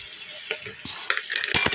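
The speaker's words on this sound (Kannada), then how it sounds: "ನೋಡಿ ಫ್ರೆಂಡ್ಸ್, ಫ್ರೈ ಮಾಡ್ತಾ ಇದ್ದೀನಿ ಚೆನ್ನಾಗಿ." Potatoes and onions for potato curry fry in a pan with a steady sizzle, broken by a few stirring scrapes that grow louder near the end; no one speaks.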